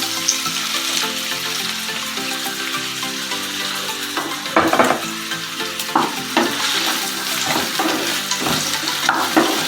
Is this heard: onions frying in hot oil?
yes